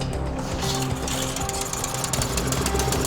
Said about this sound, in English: Birthday boy got the compressor running.